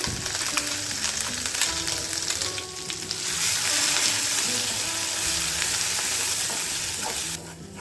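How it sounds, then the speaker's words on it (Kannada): Ground masala spices frying in a pan for a brinjal and methi leaves palya, a steady close sizzle with occasional stirring scrapes and faint background tones. "ಮಸಾಲೆ ಚೆನ್ನಾಗಿ ಫ್ರೈ ಮಾಡ್ಕೋಬೇಕು"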